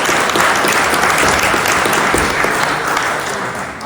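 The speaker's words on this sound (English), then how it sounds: "Perhaps a round of applause for Peter." An audience at a lecture event claps in a loud, dense round of applause that holds steady and then tapers slightly toward the end.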